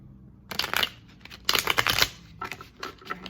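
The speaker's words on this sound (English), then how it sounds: "Let me just get a couple shuffles here" Tarot cards being shuffled in a few quick riffling bursts, close and crisp, separated by brief pauses.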